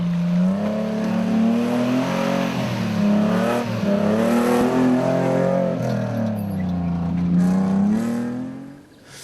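Engines of rally pickup trucks, including a Nissan Hardbody, rev and strain in rising and falling surges as they race hard in the 2009 Toyota Dealer 400 rally, loud and close, with gear changes breaking the drone; no voices.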